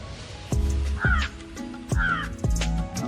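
Crows cawing near a hilltop temple in Ponmudi, several loud, harsh caws in quick succession close by, with a faint background murmur and no clear speech.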